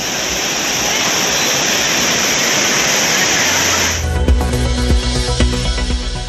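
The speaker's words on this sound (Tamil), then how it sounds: "குற்றால அருவிகளில் 6வது நாளாக தொடரும் வெள்ளப்பெருக்கு" Floodwater roars down the Courtallam waterfalls in a loud, dense, continuous rush that cuts off after about four seconds, giving way to a low, droning music bed.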